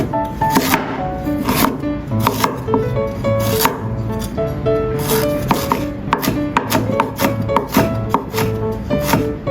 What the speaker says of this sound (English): Chopped ginger.